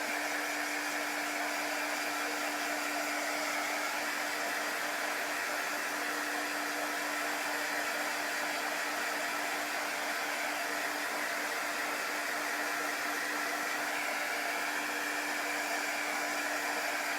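A hair dryer blows a steady, loud, unbroken whoosh with a constant whine while drying chalk-painted pumpkin and gourd cut-outs, running alone without talk.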